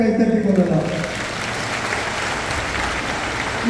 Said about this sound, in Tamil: நீங்களே ஒரு முறை கைத்தட்டிக் கொள்ளலாம்.